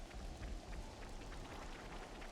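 Steady rain falling in the video game Xenoblade Chronicles 3, a continuous soft hiss of drops with faint patter throughout, no voices.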